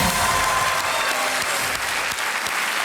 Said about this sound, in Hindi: बहुत तालियों के साथ हमने आपका स्वागत किया है